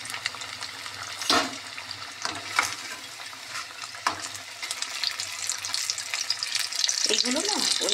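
Vegetable pakora frying in oil in a wok gives a continuous bubbling sizzle that grows louder toward the end, punctuated by a few sharp scrapes and clinks of utensils, close by and with no talking.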